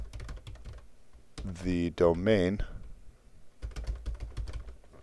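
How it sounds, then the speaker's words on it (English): A computer keyboard clatters in quick bursts of keystrokes before and after a short stretch of someone talking, with the taps close and fairly crisp. "So what we want to do here is type SSH and then the username"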